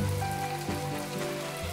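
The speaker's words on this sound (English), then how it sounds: "It's raining out" Rain falls in the video game My Time At Portia, a steady soft patter on surfaces with a faint tonal game hum running beneath, continuous and even with no talking.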